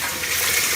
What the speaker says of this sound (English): notice we get plenty of water coming in